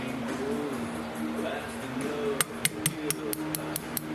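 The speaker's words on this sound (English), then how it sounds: "you're going to hammer your pin from the same side as your slide lever's on" A steady series of sharp metallic hammer taps, about eight in quick rhythm, driving a pin into an M1 Carbine trigger group, close by over a low background hum.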